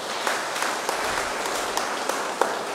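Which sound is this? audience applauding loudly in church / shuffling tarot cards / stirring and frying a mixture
audience applauding loudly in church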